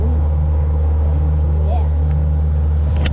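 A boat motor drones loud and steady while heading out crabbing on the Chesapeake Bay at Kent Narrows, its low hum holding throughout, with faint voices mixed in.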